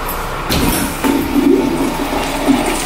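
A toilet flushes in a restaurant bathroom, a loud, close rush of water that keeps swirling and gurgling steadily for several seconds.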